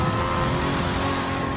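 Nissan R34 GTR in Need for Speed Heat, a loud engine roar held at high revs, dense and raspy, close up, cutting off abruptly at the end.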